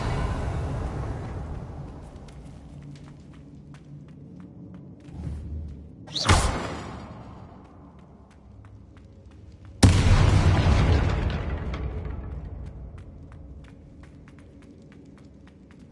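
Two loud blasting-spell explosions go off in a Hogwarts Legacy game, each a sharp boom with a long, rumbling decay, separated by several seconds of quiet; no talk.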